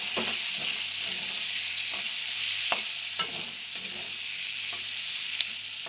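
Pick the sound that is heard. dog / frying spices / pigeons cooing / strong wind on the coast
frying spices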